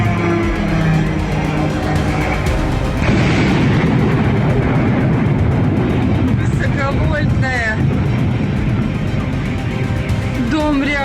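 A drone strike blast on a building in the town of Ramenskoye, Russia, heard as a heavy, dense low rumble that swells from about three seconds in and continues with rough debris-like noise, while shaken voices speak over it.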